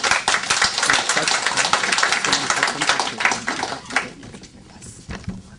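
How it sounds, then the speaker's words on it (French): An audience applauds at a political rally of the RDR party held by the diaspora in New York, a dense, loud burst of clapping that thins and fades toward the end. "Applaudissez le délégué général."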